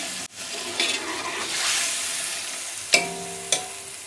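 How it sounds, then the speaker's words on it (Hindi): Beef being fried on a high flame for yakhni pulao, a strong continuous sizzle with stirring scrapes and a couple of sharp clanks of a utensil against the pot, close-up and without speech. "अब इसमें हम गोश्त डाल लेते हैं। बिस्मिल्लाहिर्रहमानिर्रहीम। और चूल्हे को तेज़ कर लेते हैं। इसको हम 5 मिनट के लिए भून लेते हैं।"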